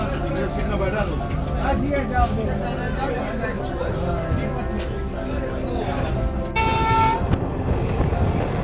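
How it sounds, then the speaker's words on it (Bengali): A long-distance train leaving Shalimar station in Kolkata for Bhuj rumbles on the rails, with someone talking over the clatter, then a loud horn blast sounds near the end. "ট্রেনও ছেড়ে দিয়েছে।"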